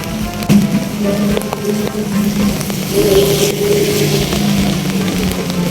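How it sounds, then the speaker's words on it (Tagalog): Steady, dense hiss of heavy rain pouring down without a break at a roadside, with occasional sharper drips and splashes and faint traffic noise underneath. "Sobrang lakas ng ulan mga kalumlum."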